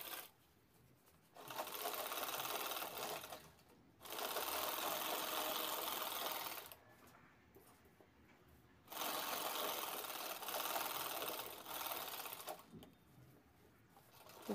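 A sewing machine stitches a handmade shopping bag in bursts of steady, fast whirring lasting about two to three seconds each. Short quiet pauses separate the runs, and the machine is heard close and alone.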